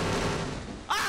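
A loud explosion booms in the video game S.T.A.L.K.E.R. Shadow of Chernobyl, a dense, sustained roar that fills the clip and then breaks off into a brighter burst at the very end.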